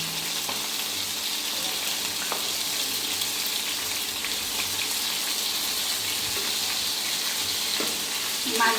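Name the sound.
sea fish frying in oil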